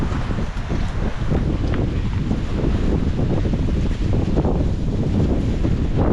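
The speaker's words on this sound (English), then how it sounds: "Ooh, it's windy." Strong wind buffets the microphone in a continuous low rumbling roar, steady and loud throughout with no voices.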